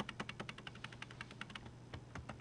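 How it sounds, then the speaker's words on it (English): Quick typing on a computer keyboard, a brisk run of light, close key clicks in an irregular rhythm, heard alone and faintly. "If you start typing in their name"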